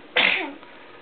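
A single sharp, close sneeze bursts out suddenly and fades over about half a second, alone against a quiet indoor background.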